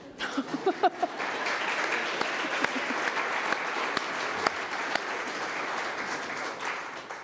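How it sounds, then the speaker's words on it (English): Applause at a memorial service rises from a few scattered claps into sustained, even clapping by a gathered audience, continuing steadily for several seconds without talk. "You can clap, Bill would."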